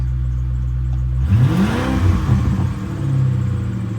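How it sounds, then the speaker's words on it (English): A 1996 Ford Thunderbird engine, idling low at first, suddenly revs hard at full throttle, rising in pitch, easing slightly, then revving again, close and loud. "Sounds a lot better when I floor it."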